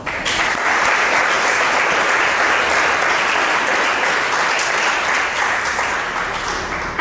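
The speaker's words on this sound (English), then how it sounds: "Please clap for her." A school classroom full of students claps for a classmate, producing loud, dense, continuous applause that holds steady for several seconds without any talking over it.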